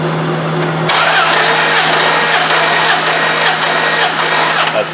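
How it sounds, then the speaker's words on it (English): A Dodge 4.7 engine cranks over during a compression test. A low hum runs first, then the starter kicks in abruptly and churns steadily and loudly for several seconds. "Crank it up again, Dev."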